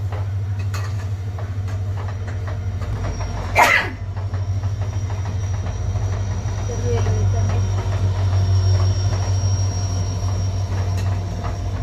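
A train passes on a railway line in the evening, a low rumbling drone with a rhythmic rolling clatter heard from some distance, joined briefly by a sharp horn-like burst.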